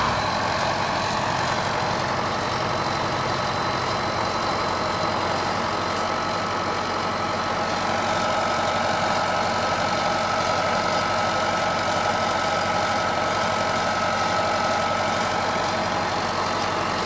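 A loud tractor engine idles steadily and continuously throughout while stuck in ice and mud, a dense rumbling drone with no pauses and no voices.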